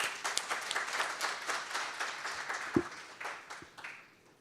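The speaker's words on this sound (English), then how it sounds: "Please join me in giving her a warm round of applause." A conference audience gives a warm round of applause to an FBI special agent taking the stage, a fairly quiet, steady patter of many hands that tapers off toward the end.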